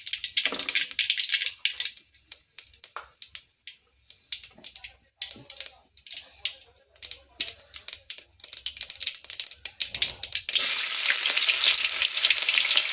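Cumin and mustard seeds crackle and sizzle in hot oil for Basmati masala rice, a close, busy spitting with scattered pops and stirring scrapes that swells into a dense, loud hiss at the end.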